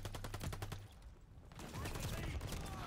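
Rapid automatic gunfire rattles in a Call of Duty: Vanguard match on the Dome map, a fast burst of close shots, a short lull, then more shooting and battle noise.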